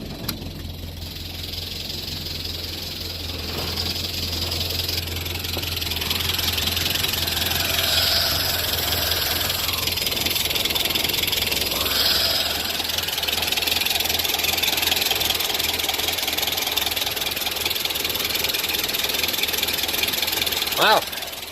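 An old car engine, just brought back to running with oil pressure, idles steadily and close by, with a constant rough drone and tappety mechanical chatter throughout.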